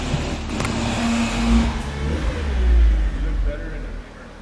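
A Mitsubishi Evo 8 on lowering springs revs and pulls away with a deep engine drone that swells and dips, while people talk over it close by.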